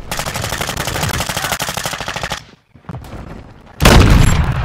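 Loud rapid gunfire in a Call of Duty Modern Warfare 2 beta Ground War match, a close stream of fast shots for a few seconds, a brief silence, then another heavy burst and boom.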